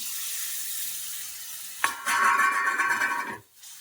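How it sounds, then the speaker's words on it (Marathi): White peas tipped into hot, oily masala gravy set off a sudden loud sizzle that hisses steadily for about a second and a half, then cuts off sharply, after a quieter simmering background. "आता आपण हा वाटाणा घालून घेऊया."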